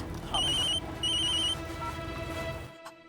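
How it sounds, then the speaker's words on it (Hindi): A telephone rings with two clear electronic ring bursts in quick succession, then the ringing stops abruptly, amid a quiet indoor household scene in a TV drama. "जरा फोन उठा।"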